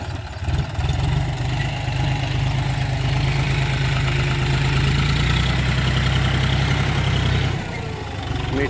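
Rented tractor spreading soil, its engine running loud and steady up close with a low rumbling idle and slight shifts in load, fading near the end, with no talk.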